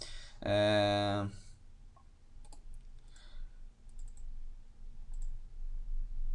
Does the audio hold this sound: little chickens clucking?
no